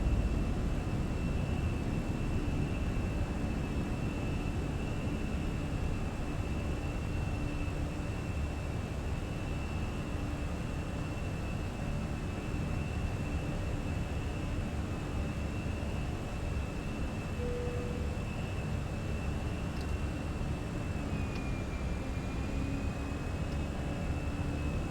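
Aircraft rolling down the runway in Microsoft Flight Simulator: a steady, dense roar of engine and rolling rumble holds at constant loudness throughout, with a thin whining tone above it and no talk.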